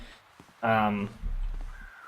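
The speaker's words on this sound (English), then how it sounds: "So this is one of the biggest clues and hints in the game, is finding crows circling." In a video game, a crow gives one loud, harsh caw close by, followed by a lower rumble and faint background game ambience.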